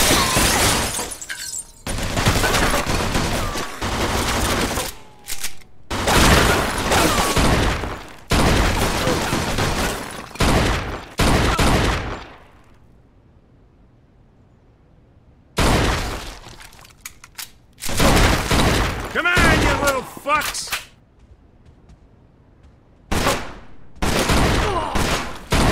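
Gunfire in the video game Mafia 2, loud sustained bursts of automatic shooting and shattering in long stretches separated by brief quiet gaps.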